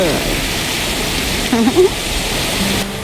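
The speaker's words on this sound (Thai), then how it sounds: "เราก็จะมาเห็นน้ำตกเล็กๆ แล้วก็มีเสียงน้ำตกให้ฟัง" A small waterfall in Phu Hin Rong Kla National Park, Phitsanulok, gives a steady broadband rush of flowing water throughout, with a brief voice-like sound near the middle.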